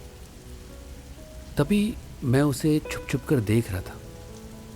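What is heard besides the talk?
heavy rain falling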